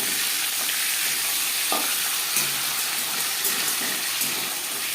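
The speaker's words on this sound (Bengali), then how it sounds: "একটা সাইড ভাজা হয়ে গেলে অপর সাইডটা উল্টে দেবো।" Rohu fish fries in a pan with a steady, close sizzle, broken by a few brief clatters as the pieces are turned.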